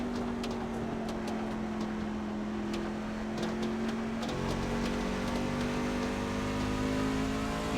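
A Goodyear-shod race truck in a Truck Series event at New Hampshire in a racing video game, its engine droning at low RPM with a steady tone that dips and then climbs again, continuous and close.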